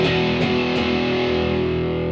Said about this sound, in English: So like if I have my distortion on